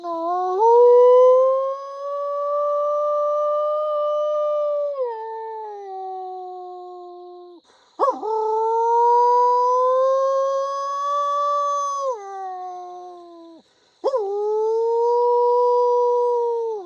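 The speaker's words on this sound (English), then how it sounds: "So we got dogs all around us." Long, clear howls rise and fall in several sustained waves, with a few voices blending together, close and loud with brief pauses between.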